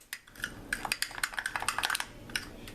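A spoon or whisk clicks and scrapes quickly against a bowl while ground mustard sauce is stirred, a busy irregular patter of light taps, close and alone.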